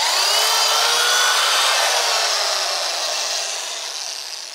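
A power drill fitted with a multi-purpose bit drills through a plastic kayak track with pre-drilled holes on a NuCanoe kayak, giving a steady high-pitched whine that holds for several seconds, then dips slightly as the cut finishes, with no talk.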